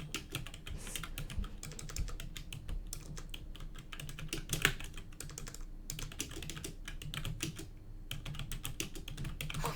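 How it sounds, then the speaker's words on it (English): Fast, continuous typing on a computer keyboard, dense clicking keystrokes with brief pauses, close and steady, no voices. "I'm just typing a lot."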